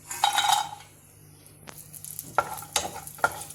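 Cardamom, cloves, cinnamon, bay leaf and cashews fry in oil for paneer masala, a close sizzle broken by several sharp metal spoon scrapes and clinks against the pan, with no talk.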